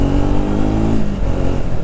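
A Triumph Speed 400 motorcycle rides on a rain-wet road with hard gear shifts, its engine droning steadily and loudly up close, with a pitch drop partway through as a shift comes in.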